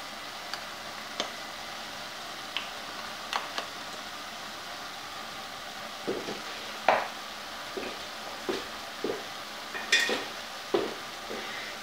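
Chinese five spice and turmeric stirred in a soup pot, a steady low sizzle of frying under scattered light scrapes and taps of the spoon, close and unhurried, with no talk.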